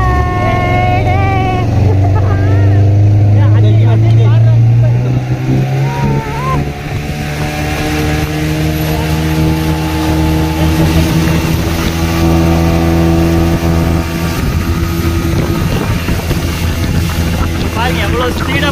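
A speedboat races across the water at Malampuzha dam, its engine roaring loud and close with rising and falling pitch, wind buffeting the microphone and a voice speaking now and then.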